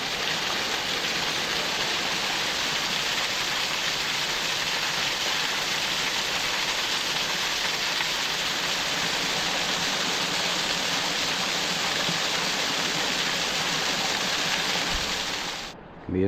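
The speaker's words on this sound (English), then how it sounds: "You gotta love it when there's a bonus waterfall." A waterfall roaring steadily on a hike at Savage Gulf State Park, Tennessee, a loud, dense, unbroken rush of falling water heard up close, with no voices over it.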